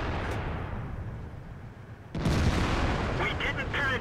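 Heavy tank gun from an M103 fires in a World of Tanks battle, a sudden loud boom about midway with rumbling decay under ongoing game noise and someone talking.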